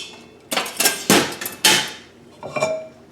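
Stainless steel Whirley-Pop popcorn popper lid being lifted off, a few close metallic clanks and knocks in quick succession, then a softer rattle.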